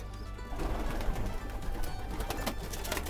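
Roeper-line pigeons coo softly and steadily in a young-bird loft over a low, constant hum, with occasional faint rustles and wing movements nearby.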